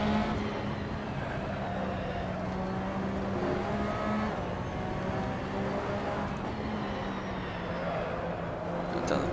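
A Porsche 911 RSR race car engine in the Assetto Corsa racing game drones loudly and steadily, with pitch steps as it downshifts toward a corner, continuous and close with no talking.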